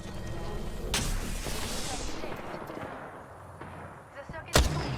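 Gunfire in the battle royale shooter Apex Legends, a dense rumbling barrage of shots and booming impacts under a fading whoosh, ending with a sharp loud blast near the end, fairly quiet overall.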